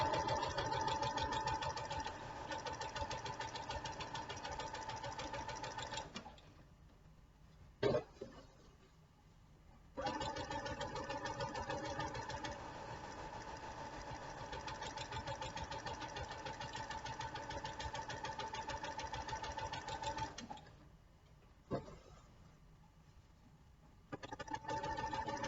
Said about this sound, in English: I put my presser foot down, okay, and I continue sewing.